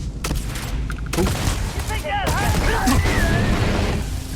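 Gunfire in the Starfield video game, a dense fusillade of shots and booms mixed with music and effects, with voices talking over the shooting throughout.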